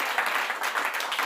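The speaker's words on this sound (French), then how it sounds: "Acclame pour Jésus." A church congregation claps during a Sunday sermon, a brief, dense burst of applause from many hands that fills the space evenly.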